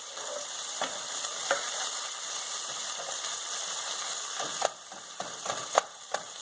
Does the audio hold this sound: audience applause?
no